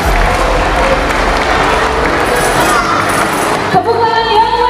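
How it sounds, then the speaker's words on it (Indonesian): Audience applause and cheering at an elementary school anniversary celebration, SD Negeri 75 Palembang, a dense, steady wash of clapping from a large crowd that continues for several seconds before thinning out near the end. "marilah kita tepuk tangan yang meriah untuk merayakan SD Negeri 75 Palembang"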